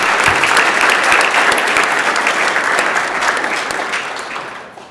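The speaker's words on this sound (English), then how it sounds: "I suggest you all give her a round of applause" A room of people in a Senate chamber applauds steadily for several seconds before the clapping tapers off, close and fairly loud.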